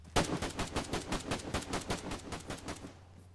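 A sustained burst of automatic gunfire in the military shooter ArmA 3, Escape Chernarus mode: evenly spaced, rapid, loud shots in a steady rhythm for about three seconds, then fading out.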